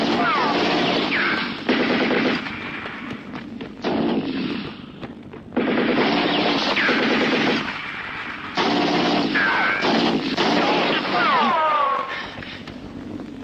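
Bursts of gunfire trade back and forth in an action-drama fight scene, loud, close and repeated, with shouting voices and dramatic sound layered around the shots.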